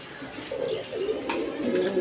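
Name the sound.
pigeon cooing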